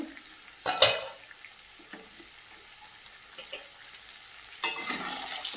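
Mutton being braised and stirred in a covered pan: a brief loud scrape and sizzle near the start, quieter frying hiss throughout, then a renewed burst of sizzling and stirring toward the end.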